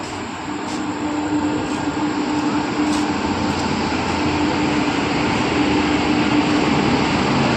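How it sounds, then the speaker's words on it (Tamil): A passenger train pulling into a station: a loud, steady rumble with a sustained mechanical hum running through it and faint squeals above, building slightly as it nears, with no voices. "ட்ரெயின் இப்போ வரும்."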